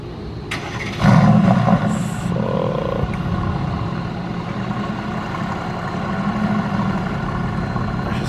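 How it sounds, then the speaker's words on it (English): Car with aftermarket downpipes starts and settles into a deep, loud, rumbling idle, with a sharp burst around the start and a steady low throb after it. "Let's see how this car sounds."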